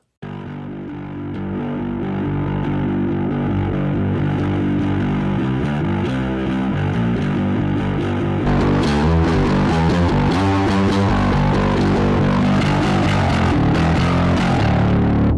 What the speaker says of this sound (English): Let's see what it sounds like with the distortion kind of all the way up.